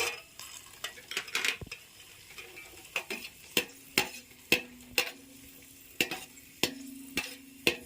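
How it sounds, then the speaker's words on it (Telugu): Cashew nuts fry in ghee in a pan while a spoon stirs them, soft sizzling underneath a series of sharp metallic clacks and scrapes at an irregular, roughly one-per-second rhythm, close and clear. "జీడిపప్పు వేసిన. ఇట్లా ఇది మంచిగా ఇది ఎర్రగా రావాలి, గోల్డ్ కలర్."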